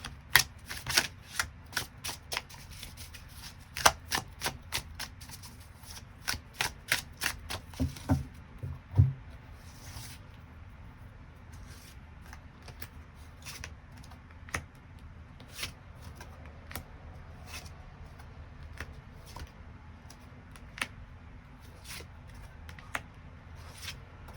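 Tarot cards being shuffled in the hands, a fast run of crisp, close riffling taps for the first several seconds, then slower, softer scattered flicks and slides of the cards, with no one speaking.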